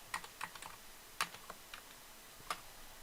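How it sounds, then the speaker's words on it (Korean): Typing code on a computer keyboard: a quiet scattering of light key clicks in small irregular bursts, close and faint, with no talk. "탭 눌러서 기본 코드 작성해 주고요"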